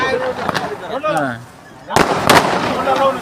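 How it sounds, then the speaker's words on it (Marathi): Firecrackers set off outdoors at a birthday celebration, a sharp bang near the start, then a louder burst of rapid crackling pops, with people talking underneath and between the blasts. "तर चला आता फटाके बघा"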